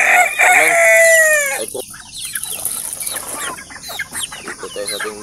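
Chickens at a backyard native chicken farm, a rooster giving one loud nearby crow, then a busy mix of clucks and short calls from the flock, with a flap of wings.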